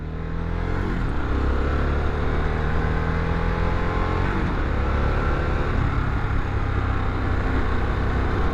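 A 2021 Harley-Davidson Sportster S engine revs and pulls hard, its pitch climbing through gears, loud and close with heavy wind rush throughout.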